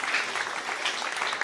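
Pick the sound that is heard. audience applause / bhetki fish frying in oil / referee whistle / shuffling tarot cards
audience applause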